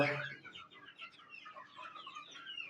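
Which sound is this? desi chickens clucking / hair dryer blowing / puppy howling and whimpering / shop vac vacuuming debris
desi chickens clucking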